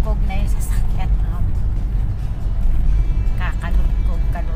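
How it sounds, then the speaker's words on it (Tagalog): Car rattling over a rough road at night, with a steady low engine and road rumble running throughout while people talk inside the vehicle. "kalugkog na yung sasakyan"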